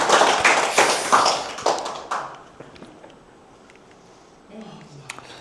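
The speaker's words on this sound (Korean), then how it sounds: "우리가 부산항을 위해서 박수 한번 칩시다." An audience claps for Busan port during a lecture on maritime logistics: a dense burst of hand claps for about two seconds that quickly thins out and fades, with speech nearby.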